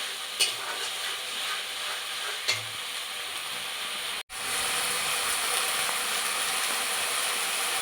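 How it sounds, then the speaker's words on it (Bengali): Chopped onion frying in oil in a pan is stirred, a steady sizzle with occasional scraping clicks of the spoon, close and continuous with a brief cut midway; no talk. "এটাকে বারে বারে নাড়তে হবে যাতে গুঁড়ায় না লেগে যায়।"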